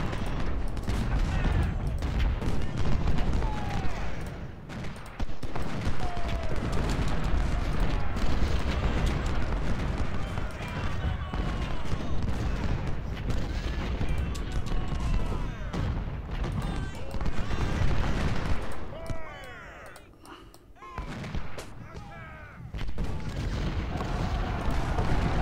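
Continuous Civil War battlefield din from Ultimate General: Civil War, with dense musket volleys and booming artillery at the Mule Shoe at Spotsylvania, sustained and loud throughout with a brief lull near the end.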